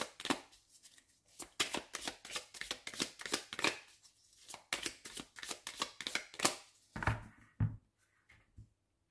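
Tarot cards being shuffled and cut by hand, a quiet, close series of crisp riffling slaps and flicks in irregular bursts, ending with a couple of duller thumps as the deck is set down.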